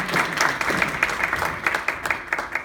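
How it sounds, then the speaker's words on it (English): Audience applause greeting a guest speaker at a talk, steady clapping from many hands that holds at an even level throughout. "Let's give him a round of applause."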